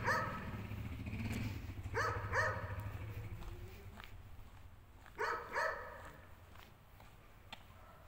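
A dog barks outdoors in a few short bursts of two or three barks, moderately near, with quiet gaps between them and a low rumble in the background.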